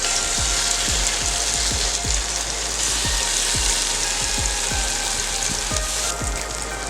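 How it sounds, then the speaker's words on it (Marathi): Banana slices fry in a little hot oil in a pan over low heat, giving a dense, steady crackling sizzle with a rhythmic low thumping underneath, loud and close, without speech. "पॅनमध्ये 1 चमचा तेल घातलं आहे। तेल गरम झालं आहे। केळ्याची कापं घालून घेऊया।"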